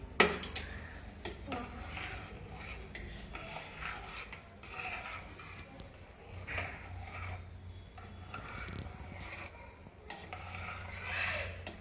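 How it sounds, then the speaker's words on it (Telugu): A spoon scrapes and stirs semiya kesari, sweet vermicelli with sugar, in a pan, in irregular rasping strokes with a soft sizzle underneath, close and moderately quiet. "వేసే దాంట్లో మొత్తం వేసేసి కలుపు చిన్నగా కలుపు ఇట్లా పట్టుకో దీన్ని పట్టుకొని కలుపు"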